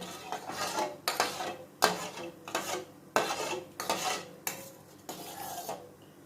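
A spoon scrapes and clinks around a metal pot in repeated stirring strokes, several bursts with brief pauses, close and fairly loud, no voices.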